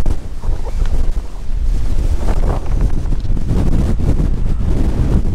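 Strong wind buffets the microphone on a Lake District mountain summit during rain, a loud, continuous roaring rumble with no break.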